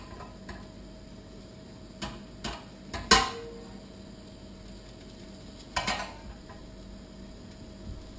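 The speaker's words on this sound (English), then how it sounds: "the pan's nice and hot, so what we'll do now is we'll take the mushrooms here and put them in" Fresh mushrooms tipped into a hot frying pan for a quick sauté while making a turkey burger: a few sharp clattering knocks against the pan, loudest mid-clip, over a quiet room background.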